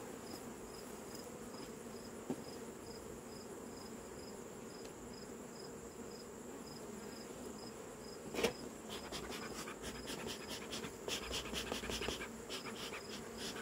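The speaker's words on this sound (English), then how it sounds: "Just want these bees to go" Honey bees buzz steadily at a low, quiet level throughout, with a few louder close passes and light clicks near the end, during a mid-August hive inspection as comb is scraped off.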